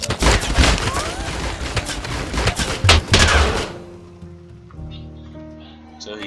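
Gunfire rattles through a TABS video game battle, a dense volley of rapid shots and bursts for the first few seconds before cutting out, leaving faint in-game ambience and tones.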